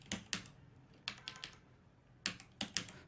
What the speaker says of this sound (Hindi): देन यहाँ पर हम अपना कैप्चा कोड डालेंगे